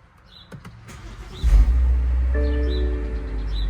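A BMW 540i with the B58 engine, parked in a garage during a transmission fluid fill, settles into a deep, steady idle rumble after a brief rise. There are faint clicks and whirs earlier in the clip and no speech.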